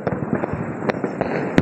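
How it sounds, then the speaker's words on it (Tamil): Diwali night fireworks and firecrackers burst in quick succession, sharp cracks and pops of varying distance, with a loud close bang at the end. "மக்கள் ரொம்ப ஆர்வமாக பட்டாசுலாம் வெடிச்சிட்ருக்காங்க"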